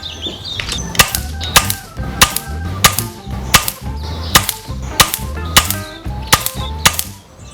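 An air rifle with a compact barrel, buddy bottle and large silencer fires .177 JSB KO slugs: about eleven sharp, close cracks at an even one-second rhythm, each followed by a brief mechanical clatter, no voices.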